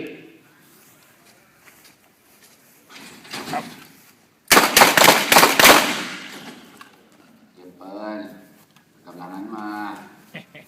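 About six loud, close gunshots crack in rapid succession during self-defense shooting practice, with shouted range commands before and after the burst.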